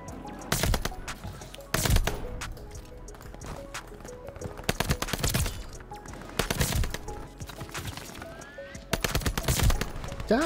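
Sharp video game gunfire from a three-round-burst weapon, short bursts of three rapid shots each, repeating at intervals with louder and quieter volleys, no talking.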